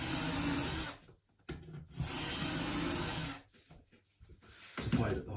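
Two short bursts of a power drill with a self-centering bit whirring at high speed while drilling pilot holes for cabinet door hinges, separated by quiet pauses with faint handling noises.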